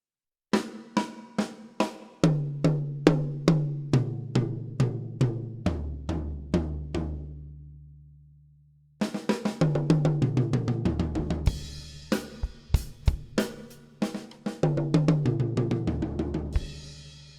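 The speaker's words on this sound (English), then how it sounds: "to play this fill, we're going to play in 16th notes, 4 notes in the snare drum, 4 notes on the first tom, 4 notes on the second tom, and 4 notes on the floor tom" A beginner drum fill on an acoustic kit: sixteen even 16th notes, four on the snare, four on each of two toms, then four on the floor tom, descending in pitch. It is played close and loud, rings out, then is repeated.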